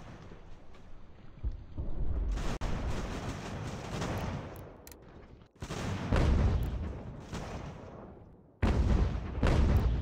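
Mortar fire in the Ultimate General: American Revolution battle game lands as heavy booming blasts, several rolling explosions separated by brief lulls, loud and close with no talk over them.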